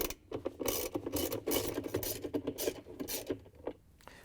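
A ratchet with an extension and a 7/16 inch socket loosens the basket drive bolt inside a Whirlpool, KitchenAid or Maytag washer tub, giving close, quick clicking and scraping bursts in an uneven rhythm with no talk.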